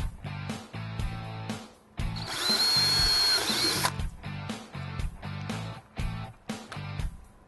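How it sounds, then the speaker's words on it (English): A power drill whirs in short, repeated bursts while drilling a pilot hole in an E-Z-Go TXT golf cart, with one longer, higher-pitched sustained run in the middle, loud and close. "We're going to drill a hole,"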